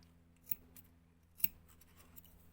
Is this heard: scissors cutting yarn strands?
yes